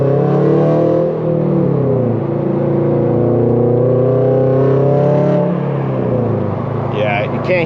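A car fitted with a K&N drop-in air filter accelerates on the road, its engine drone loud and close from inside, the pitch rising and falling through the gears.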